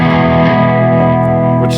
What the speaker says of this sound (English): that's a little bit of reverb.